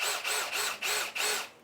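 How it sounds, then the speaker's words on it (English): A power drill bores out a hard engine mount on a boat's gearbox and front mounts, whining loudly in five repeated bursts with short pauses between, close and alone. "So I'll just drill this shit out in the mount first."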